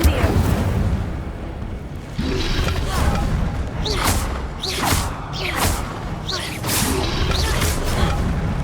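Incendio fire spells cast in Hogwarts Legacy, a run of sharp whooshing flame bursts repeating every second or so over a steady low rumble of game ambience.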